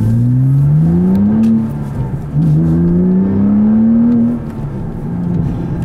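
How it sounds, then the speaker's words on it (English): A 2006 Porsche Cayman S with a manual gearbox accelerates hard, its engine note climbing through two gears with a brief dip at the shift, loud and close from inside the car. "I'm gonna drive this car around for a little while longer here"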